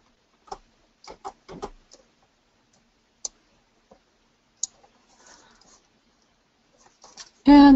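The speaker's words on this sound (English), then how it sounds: "left click and right click" A computer mouse gives sharp, isolated clicks, a quick cluster early on and then a few single clicks spaced seconds apart, in an otherwise quiet room, used while making a triple gatefold card.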